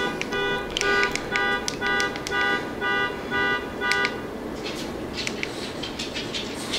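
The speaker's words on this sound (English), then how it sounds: "Dude, you set my panic button off." A car alarm panic mode set off by a key fob pocketed by a dog, blaring in a rapid rhythmic series of loud electronic honks and tones that cut off partway, leaving a brighter chirping tail.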